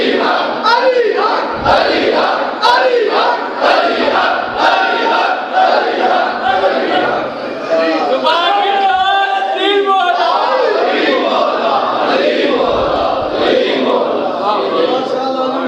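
A large crowd at a religious sermon chants slogans loudly and continuously in unison, with a dense roar of many voices that keeps going the whole time.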